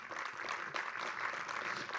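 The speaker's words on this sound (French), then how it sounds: "On peut l'applaudir." Faint, distant audience applause, a steady patter of clapping hands with no voices.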